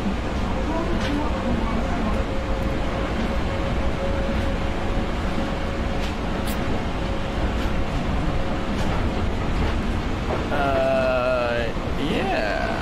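A monorail runs at Expo '70 Commemorative Park in Osaka, heard from on board as a loud, steady rumble with a thin motor whine, and warbling high tones near the end.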